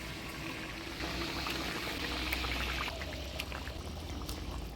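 Water is poured into a pan of fried-down fish curry masala for a Bengali bhola fish jhal, a soft continuous pouring and bubbling rush heard fairly faintly and without talk.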